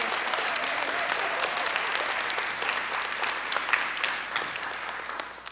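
Audience applause at a school Christmas program for 2nd, 3rd and 4th graders in a cathedral school gym with bleachers, a dense, steady crowd clapping that holds loud throughout and fades slightly at the end.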